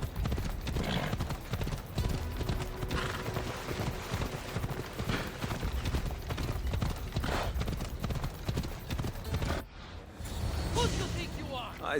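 Horse hooves clip-clopping in Assassin's Creed Odyssey, a steady trotting rhythm with game ambience, a brief swoosh and a short drop near the end before the hoofbeats resume.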